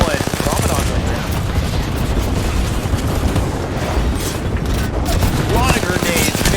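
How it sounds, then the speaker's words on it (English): Grenades go off again and again in a Valorant match, a dense wall of explosions and rapid gunfire under an excited commentator's voice. "A lot of grenades. Grenades everywhere."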